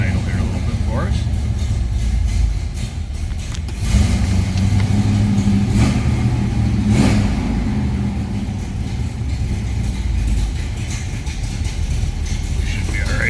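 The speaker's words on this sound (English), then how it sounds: "that 340 is pretty healthy underneath the hood, so it'll warm up and idle here a little bit for us" 1973 Plymouth Duster with a 340 V8 warming up and idling, a loud, steady low rumble with a slight lope and occasional swells in engine pitch, heard close by.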